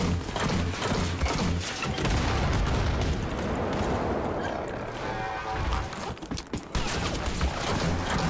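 Explosions and gunfire erupt in Wolfenstein Youngblood, with heavy booming blasts, crashing impacts and rattling shots layered densely and loudly over several seconds.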